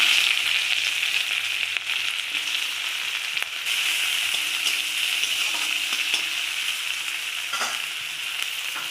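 Chopped onion sizzles and crackles steadily in hot oil, a constant bright frying hiss with occasional soft stirring clicks.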